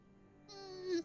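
A voice imitates two cats mating with a rising, wavering yowl that swells louder over about half a second, close and alone.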